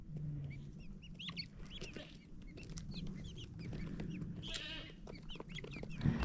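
Young guinea fowl call during an evening feeding, giving quick chirps and clucks at close range over a low background hum, with a brief louder burst of calls near the middle.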